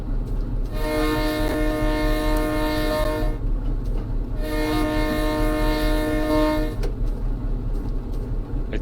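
A train whistle in a train simulator game blows two long, loud blasts with a short gap between them, over the steady rumble of the moving locomotive.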